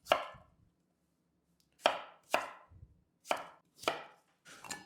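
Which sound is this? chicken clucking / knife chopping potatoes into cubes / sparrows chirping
knife chopping potatoes into cubes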